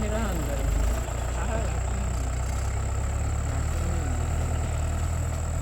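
A tractor engine idles steadily at dusk in a farm field during ploughing, a low constant rumble filling the whole stretch with a voice faintly over it.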